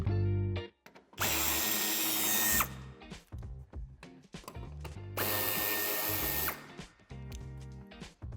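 A power drill removing screws from the bumper of a BMW 2 Series Coupé F22, two long loud whirring bursts with short mechanical clicks and handling noises between them, close up and without talk.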